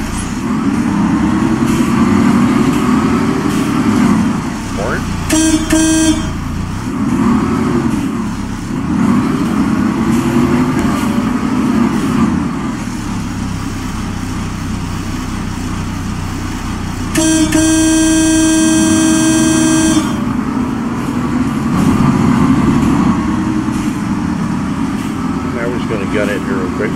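The horn of a Karosa S11 bus in the OMSI 2 driving simulator blares twice, a short honk and then a longer sustained blast, over the bus's steady low engine rumble, which rises and falls.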